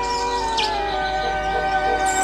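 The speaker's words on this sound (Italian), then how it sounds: "perché sono spaventati gli uccelli?" Frightened birds in an animated episode chirp in short, thin calls over a steady tonal music bed, faint against the score.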